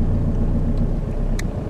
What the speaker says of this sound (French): je suis dans ma voiture d'occasion Mercedes